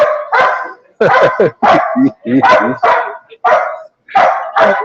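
A dog barks loudly and repeatedly nearby, a run of sharp close barks with brief gaps, some yelping in tone, carrying on alone for several seconds.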